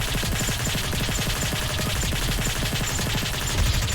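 Red micro missiles firing in rapid succession in a video game, a dense stream of sharp percussive bursts over a steady loud rumble, continuous for the whole stretch.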